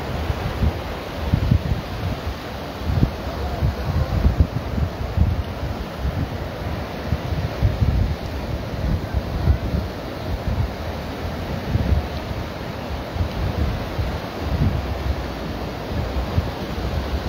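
Choppy sea waves and gusting wind at a beach on the Gulf coast at Tuxpan, Veracruz, a continuous rough roar of surf and buffeting wind noise with no talking.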